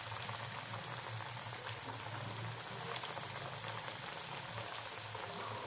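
Potatoes fry in hot oil with a steady, dense crackle and sizzle, a continuous bubbling hiss that stays even throughout with no voices.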